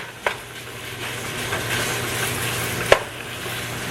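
Chopped food browns over medium-high heat in a Gotham pot, a steady close sizzle broken by a couple of sharp scraping taps from a utensil stirring and chopping it.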